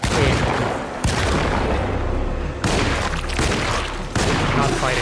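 Shotgun blasts in the horror game Alone in the Dark: loud, close booms arriving every second or so in a dense, continuous barrage with almost no quiet between shots.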